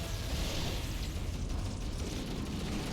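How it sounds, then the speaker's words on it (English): A grenade going off in Halo: Combat Evolved, a broad, sustained loud rumbling burst that fills the whole moment with no talk over it. "Grenade!"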